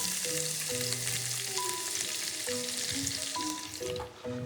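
Aromatic vegetables sweating in a pan for a carrot osso buco, with a steady bright sizzle throughout and faint stirring, under clear musical tones, and quieting slightly near the end.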